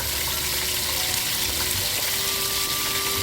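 Mutton chops sizzle and fry steadily in hot oil in a pan, a dense, continuous crackling hiss that stays even and close throughout with no talking.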